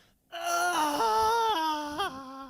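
A child screaming in Indiana Jones and the Temple of Doom, a high, sustained wailing cry that steps up and down in pitch in several sobbing phrases, loud and close.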